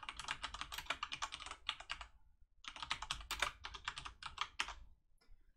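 Typing on a computer keyboard while entering axis labels in a spreadsheet chart: two dense bursts of rapid, close key clicks separated by a short pause, tapering off at the end, with no talking.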